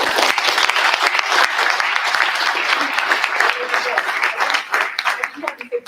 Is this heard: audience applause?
yes